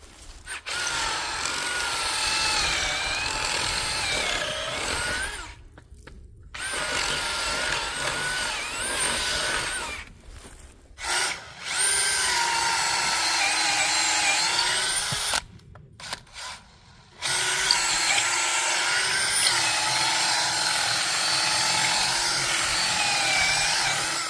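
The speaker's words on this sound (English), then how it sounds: "But first we'll start drilling our holes" A power drill whines loudly in long sustained bursts, pausing briefly between runs as it bores holes into a wooden pole for a muscadine trellis.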